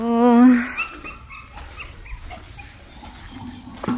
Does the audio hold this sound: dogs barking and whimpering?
yes